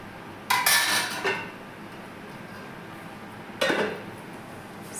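A utensil scrapes and clinks against a pan while semiya kesari, a sweet vermicelli dish, is stirred. Two short bursts of clatter come close to the listener, one near the start and one later, with quiet between them.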